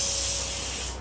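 A pressure cooker on a home kitchen stove vents steam in a loud, steady hiss that continues unbroken and fades slightly at the very end, with no talking over it.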